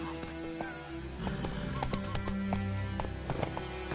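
Roach, the horse in The Witcher 3: Wild Hunt, gallops with rapid, steady hoofbeats close by, with a brief whinny mixed in and no talk.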